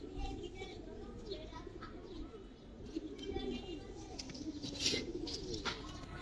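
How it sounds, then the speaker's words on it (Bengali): Several Giribaz and silver pigeons coo softly at a seller's stall, a low continuous murmur of calls with faint chirps, set against a quiet, noisy background. "জাস্ট এই দেখেন কবুতরগুলা।"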